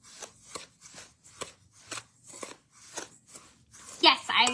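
A half cup of salt is stirred for homemade dishwasher tabs, giving a rhythmic series of gritty, crunchy scrapes at a steady pace, with a louder flurry at the end.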